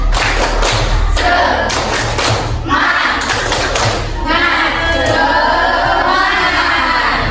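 A Year 7 class claps a rhythmic tepuk semangat spirit clap in bursts of loud, patterned claps and thumps, with voices chanting and calling between the beats.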